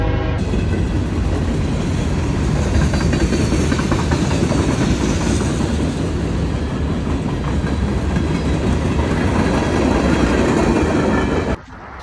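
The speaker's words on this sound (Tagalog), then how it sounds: "naabutan tayo ng tren" A loud train rumbles and clatters past at close range, a steady roar for most of the clip before it drops away abruptly at the end.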